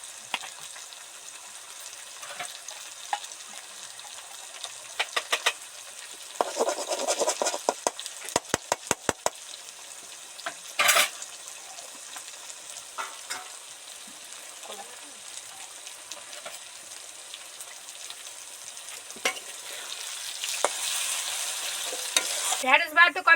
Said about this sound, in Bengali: একদম যখন দেখবেন তেল একদম বুজবুজ করে ফুটছে আর সবজি থেকে ছেড়ে গেছে